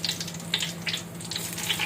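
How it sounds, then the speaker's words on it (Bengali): Garam masala and two dried chilies tempered in hot oil, about half a kilo of oil for mango pickle, crackling and sizzling up close in short repeated bursts. "এবার গরম মশলা ফোড়ন দিলাম, সাথে দিলাম দুটো শুকনো মরিচ"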